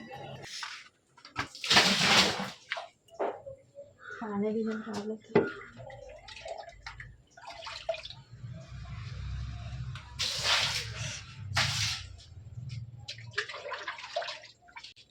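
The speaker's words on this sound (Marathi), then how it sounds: "बराच पाण्याचा मारा केला पण साप कुठे लपून बसला होता" Water sprayed hard into a pipe and around a village house in the Konkan region to drive out a hidden snake, heard as broad hissing, splashing bursts that come and go between stretches of nearby talk.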